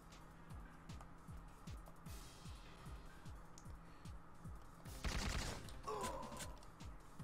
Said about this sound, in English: Oh shit, someone's shooting at me.